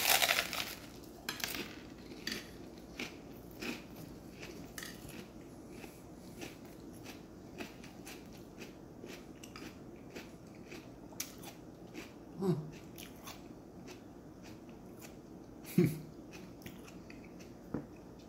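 Crunchy bites and chewing of a bowl of pepper cereal, close and quiet, with scattered crisp crunches and a couple of louder bites over a soft background.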